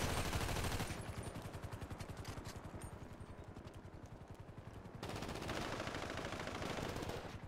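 Rapid automatic gunfire in a GTA roleplay shootout, a dense near continuous rattle of shots that eases slightly in the middle before surging loud again, with no talking.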